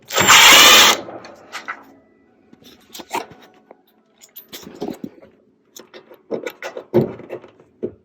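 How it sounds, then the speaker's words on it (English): A cordless power driver backs screws out of the bottom of a Whirlpool oven: a loud, brief motor whir at the start, followed by scattered clicks, rattles and handling knocks of the tool and loosened screws. "Now we are going to remove the 3 screws from the bottom."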